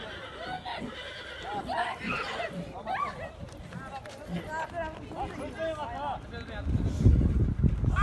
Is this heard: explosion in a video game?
no